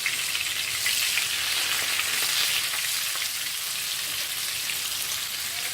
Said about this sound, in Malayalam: സവാള വറുത്തത് അങ്ങനെ വഴന്ന് വന്നിട്ടുണ്ട്